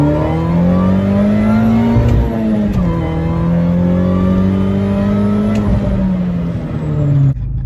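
Supercharged car with the cabin filter removed, accelerating under load, a steady rising engine drone with a faint high whine on top, heard close from inside the car without talk.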